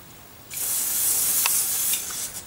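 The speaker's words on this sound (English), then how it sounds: "I'm going to spray some silicone grease onto it" A steady hiss from a spray can of silicone grease sprayed onto a microfiber rag, one continuous burst lasting about two seconds, close and fairly loud, then a brief extra spurt.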